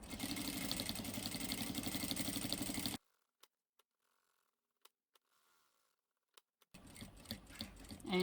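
A sewing machine back stitches the ends of fabric for reusable Christmas crackers with a fast, rhythmic mechanical whir. The whir breaks off into a few seconds of near silence with faint clicks, then resumes.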